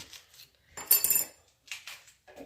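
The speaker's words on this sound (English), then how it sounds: "I'll go ahead and cut it in a couple chunks." A knife cuts a yellow sweet onion into chunks on a board, giving a few separate close chopping and clatter bursts with one louder cluster in the middle and short quiet gaps between.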